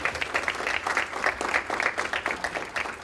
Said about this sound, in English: could I just have a little round of applause for all of us?